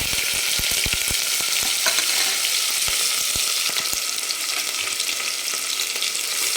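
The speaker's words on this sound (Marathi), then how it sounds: "कांदा आपल्याला छान एकदम फ्राय करून घ्यायचा आहे सोनेरी कलरवर" Sliced onion frying in oil in a pot on high flame makes a strong continuous sizzle, opening with a quick run of sharp taps as it is stirred, then settling into a steady hiss with no talking.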